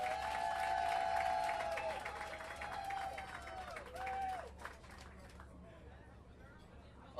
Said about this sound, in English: Let's give Muriel Bowser a round of applause as she comes up.